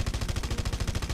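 Rapid gunfire in the video game Red Faction Guerrilla, a quick close string of about a dozen evenly spaced shots over roughly a second.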